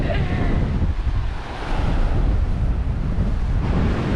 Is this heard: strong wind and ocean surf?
yes